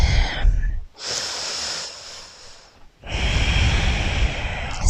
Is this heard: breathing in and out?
yes